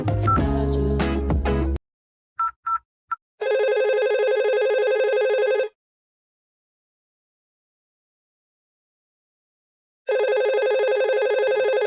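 A simulated phone in a Cisco Packet Tracer PBX softswitch call test rings in two long electronic bursts separated by silence, preceded by a few short tones and a loud burst of other sound at the start.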